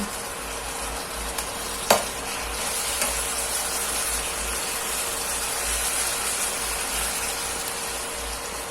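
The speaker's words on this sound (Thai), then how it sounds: "ผัดหอมขาวให้มันหยกจักน้อยก่อนจ้า" Shallots stir-fried in a hot pan for a chicken basil stir-fry give a steady, even sizzle and hiss, with one sharp utensil scrape early on and fainter stirring clatter after.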